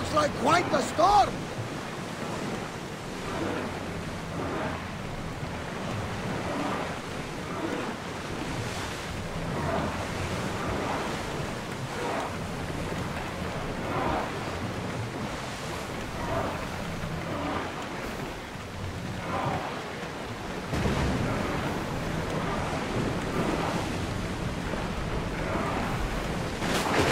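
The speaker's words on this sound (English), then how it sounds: "Looks like quite the storm!" Stormy open sea in Assassin's Creed Odyssey, with heavy waves surging and crashing around a sailing ship while strong wind roars steadily. Occasional crew voices call out over the storm.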